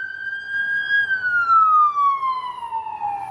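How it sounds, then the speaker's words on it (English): Ambulance siren passing by outdoors, a single clear wailing tone that holds, then slides steadily lower as the vehicle moves away, fairly near and prominent. "That was an ambulance, so it must be a car wreck."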